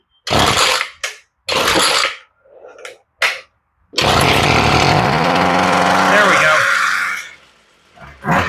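A Ryobi weedeater engine with the choke partially on fires in several short, loud sputtering bursts. It then catches and runs steadily for about three seconds before cutting out, then roars briefly again.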